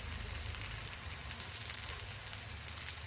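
Aval vadai fry in hot oil, a soft, steady sizzle with fine crackling that stays quiet and continuous, with no talk.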